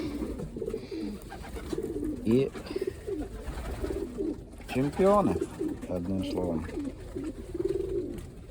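Pigeons and young pigeon chicks coo softly in a loft, low murmuring calls repeating throughout while someone talks over them nearby.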